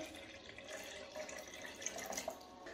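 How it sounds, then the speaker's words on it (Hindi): Milk poured into a blender jar over soaked dates for a date milkshake, a continuous soft liquid gush and gurgle, fairly faint and close, with no talk. "दूध को ऐड करेंगे"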